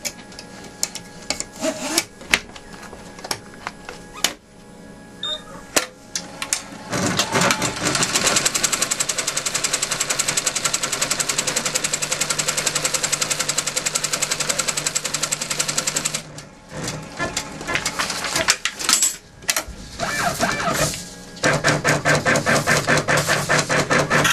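A sewing machine stitches a tack on a crazy quilt block while malfunctioning. Short stuttering bursts start and stop, then a long steady whirring run follows, then more choppy stop-start stitching, all loud and close.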